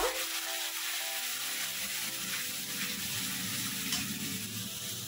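Green chilies and Kashmiri chili powder hit hot oil in a pan, a steady sizzle with faint stirring scrapes and no talking.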